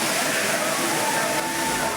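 Courtallam waterfall pours in a steady broadband rush, with tourists bathing in its spray and a faint murmur of voices mixed into the constant roar.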